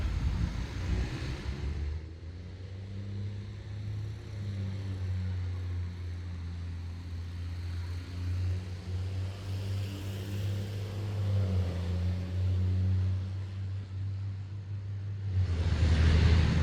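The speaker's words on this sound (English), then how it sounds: "that was an army truck. That was sort of loud." A heavy army truck engine rumbles loudly and steadily for the whole stretch, swelling again near the end as the truck passes close by on Uxbridge Common, Massachusetts.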